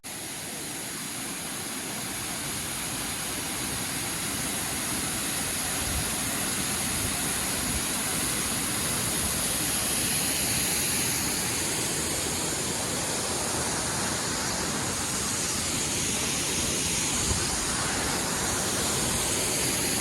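Uyilatti Falls near Ooty roars in a steady, dense wash of falling water that stays loud and unbroken throughout, with no talking.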